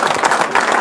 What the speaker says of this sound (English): Bow to your thunderous applause.